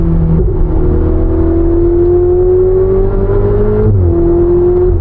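A Ferrari 488 Spider with a 3.9-litre twin-turbo V8 accelerates hard, its engine note rising steadily through a gear, then dropping briefly at a shift before climbing again, loud and close from inside the car.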